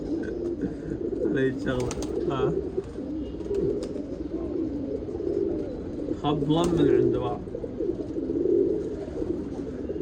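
Pigeons cooing steadily nearby in low, rolling repeated calls, while people talk over them at intervals.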